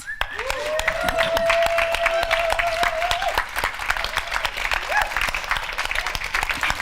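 A room full of people applauding for a group of authors, steady clapping throughout at moderate level with a brief tonal whistle-like sound early on and no speech over it.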